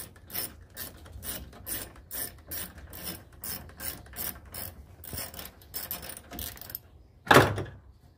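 A ratchet works a rusty bolt loose on a Trabant 601 body, giving a close run of rapid, regular clicking strokes followed by a sharp metallic clank near the end.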